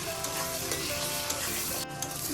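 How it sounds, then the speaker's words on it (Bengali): Sliced onions fry in a pan with salt and turmeric for a mustard hilsa curry, giving a soft, steady sizzle broken by light scraping as they are stirred. "পেঁয়াজটা এবার ভালো করে ভেজে নেব। একটু ভাজা হয়েই গেছে, নুন দিয়ে দিলাম, হলুদের গুঁড়াও দিয়ে দিলাম। ভালো করে এবার নেড়ে চেড়ে নিই"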